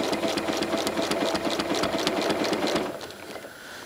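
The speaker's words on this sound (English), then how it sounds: "so I'm just going to go ahead and stitch it" A sewing machine stitches curved crosshatching lines, its fast, steady mechanical whir running loud and close for about three seconds before slowing and fading to a quieter hum.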